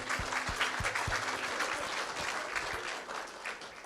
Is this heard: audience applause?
yes